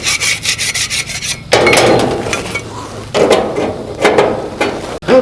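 Grill flame tamers scraped over a metal grease pan: quick rhythmic rasping strokes, then longer, heavier grinding scrapes close up, with no talking.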